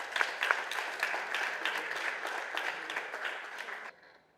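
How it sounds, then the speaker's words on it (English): Audience applause at a national landscape architecture scholarship award ceremony, a steady round of clapping in a hall that stops abruptly near the end. "Can I have a huge round of applause?"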